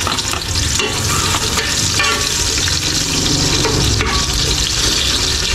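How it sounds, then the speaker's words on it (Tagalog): Garlic, onion and ginger hit hot cooking oil in a pan, giving a loud, steady sizzle with stirring scrapes throughout and no voices. "Kaya magigisa na tayo. Bawang, sibuyas, luya."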